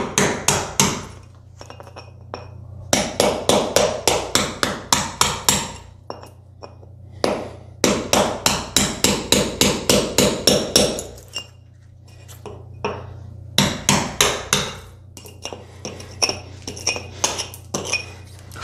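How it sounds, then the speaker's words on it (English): Masonry chisel struck with a mini sledgehammer to knock out a crack in a basement concrete wall: loud, close bursts of rapid metallic clinking blows separated by short pauses, with no talk. "get like a mini sledge or something to not use a carpenter hammer. And we're gonna go ahead and just lightly knock this out a little bit."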